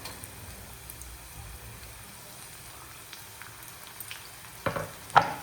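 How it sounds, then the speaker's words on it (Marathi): Onion and green chili sautéing in a pan for a spicy Agri-style dried shrimp curry, a soft steady sizzle with a couple of sharper stirring clinks near the end, close and quiet. "पुन्हा कांदा आणि मिरची परतून घेतलेली आहे"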